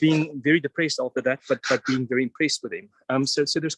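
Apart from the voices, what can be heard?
None of the usual background noises is heard.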